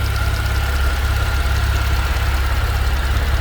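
A 2009 Porsche 911 Carrera Cabriolet's flat-six 3.6 liter engine runs at a steady idle, a close, loud low rumble with an even pulsing rhythm and no voices over it.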